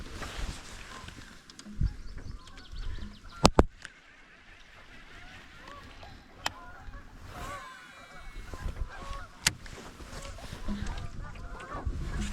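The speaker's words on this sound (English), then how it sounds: "A lot of geese around here." Geese honk at a pond in scattered bursts, a few sharp calls standing out over a steady outdoor background, with no one speaking.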